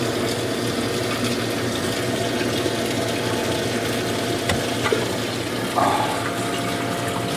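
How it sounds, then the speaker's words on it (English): An aquarium pump hums steadily, pushing water up into an LED algae scrubber, while water churns and splashes continuously, with a brief gurgle near the end. "water's now being pumped up into the scrubber"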